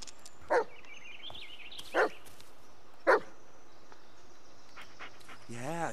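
Three sharp dog barks in the Blair Witch game, spaced about a second apart and fairly close, over quiet outdoor ambience with a faint whimpering squeal at the end.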